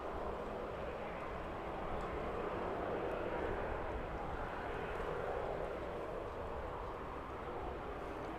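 Aircraft engine roar at East Midlands airport, a steady broadband rumble heard from a distance that holds at an even level for the whole stretch.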